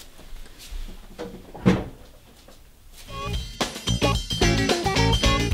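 A refrigerator door opens or shuts in a home kitchen as shortcrust pastry dough goes in to chill, a single dull thump followed by a brief quiet stretch before music takes over.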